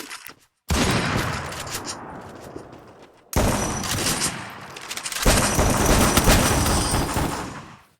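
Rapid bursts of gunfire from the battle royale video game Free Fire in lone wolf mode, loud and dense, coming in three sustained volleys separated by brief gaps, with no talking over them.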